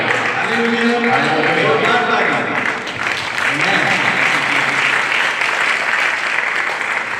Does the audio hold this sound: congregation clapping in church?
yes